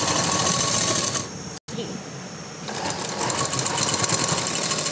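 Sewing machine stitching a turned-in strip on the back of a floral frock: a steady, close mechanical whir that slows and stops briefly, then starts running again.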